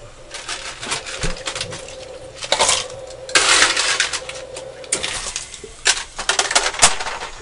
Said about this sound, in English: That's my ice maker.